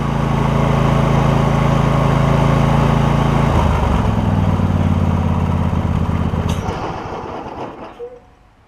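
A Husqvarna YTH2348 riding mower engine runs loud and rough at low throttle, its note dropping partway through, then bogs down and cuts out near the end, leaving quiet.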